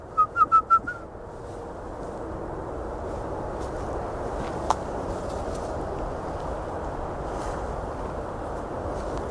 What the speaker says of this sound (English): That was a whistle back there.